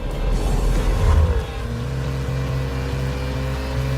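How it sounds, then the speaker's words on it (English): A Jaguar F-PACE SVR with a valve-active exhaust accelerates hard and then settles, a loud near engine rising in pitch before dropping into a steady droning cruise. "With the variable valve-active exhaust system enhancing performance capability and delivering SVR's signature soundtrack."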